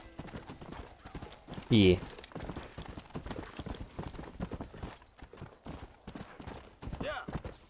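Horse hooves clip-clop at a brisk, steady rhythm in the video game Red Dead Redemption, continuing throughout the clip, with a voice speaking briefly over them.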